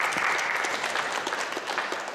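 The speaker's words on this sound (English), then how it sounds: "Round of applause, please" A crowd at a startup rapid-fire pitch event applauding, a loud continuous burst of many people clapping close by.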